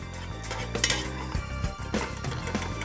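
A skimmer spoon tapped against a pan to knock off oil while cooking carrot soup with lentils and chorizo, giving a few metallic clinks and knocks amid stirring and kitchen clatter, close and moderately loud.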